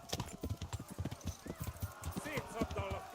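Rhythmic clip-clop of horse hooves in the medieval video game Kingdom Come Deliverance, a steady trotting beat of close hoof strikes running throughout while people talk over it.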